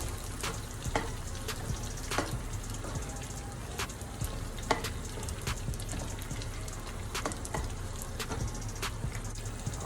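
Homemade Alfredo sauce for fettuccine stirred together in a pan: a steady sizzling hiss runs throughout, dotted with sharp clicks and taps of a utensil. No one speaks.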